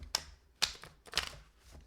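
Tarot cards are shuffled in a few quick bursts of papery riffling and snapping, three distinct flurries close to the mic and fairly quiet, with no talking.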